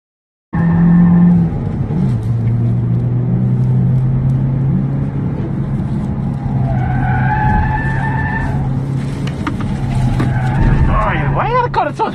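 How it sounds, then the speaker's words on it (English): A 2017 Hyundai Elantra lapping a race track at high speed, engine droning loud and close, with rising and falling pitch as it shifts and tires squealing and skidding toward the end. "here with the high speed test of the Elantra."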